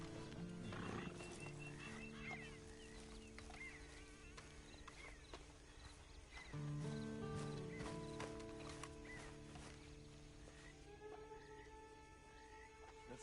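Horse in the video game Red Dead Online, with hoof clops and a whinny set against a soft musical game backdrop, fairly quiet throughout.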